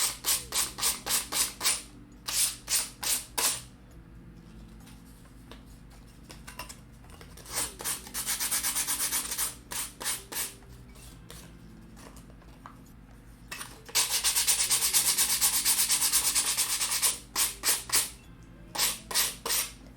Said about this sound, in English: I've already got all of my pieces sorted out, so it's just a matter of sanding